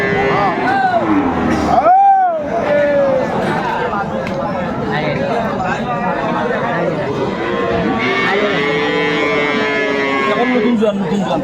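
Dairy cows and calves at the Aftabganj cattle haat in Dinajpur give loud, drawn-out moos, with one long call near the start followed by more lowing, over a busy backdrop of crowd chatter and people talking nearby.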